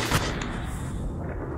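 A shotgun fires in the 50 Cent: Bulletproof video game, with a single loud, broadband blast near the start that leaves a dense, roaring noise bed behind it.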